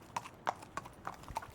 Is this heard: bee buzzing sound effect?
no